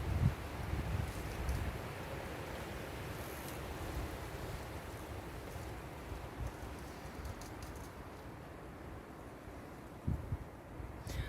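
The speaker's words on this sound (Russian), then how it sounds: "Жуткий ветер" A fierce wind blows steadily through young trees outdoors, a broad, continuous roar with low gusty rumbles at the start and again near the end.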